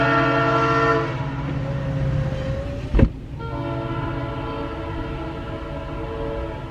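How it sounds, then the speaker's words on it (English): A train passes nearby, its horn sounding in long sustained tones over rumbling rail noise, with a brief sharp bang partway through. "We got a train coming through town."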